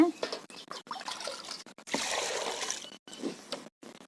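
Running water splashes over crabs being washed clean of mud, coming in short bursts and then a steadier rush, with a person talking between the splashes.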